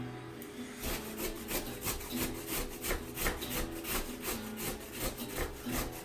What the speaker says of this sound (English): the skin of the ginger actually protects your hand from the grater